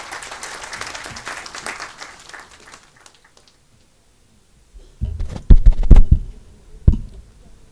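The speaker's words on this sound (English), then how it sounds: "A round of applause for her, please." Applause from the audience at a university IT department inauguration event in Mumbai, a broadband burst of clapping that fades out over about three seconds, followed by a quiet gap and then some loud, uneven knocks and handling noises.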